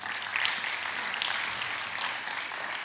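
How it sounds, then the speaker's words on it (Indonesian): A church congregation applauds during a sermon, a steady dense wash of clapping held at an even level for a few seconds with no voices on top. "Kasih tepuk tangan dulu buat Tuhan."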